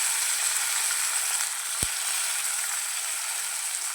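Chopped tomatoes sautéing in a hot pan for a soursop curry, a constant bright sizzle with a single light knock of a utensil partway through.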